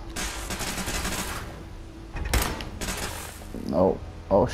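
A gun fires in the Nuka-World add-on for Fallout 4: a quick rattling burst of shots at first, then a heavier single blast partway through, with brief voice sounds near the end.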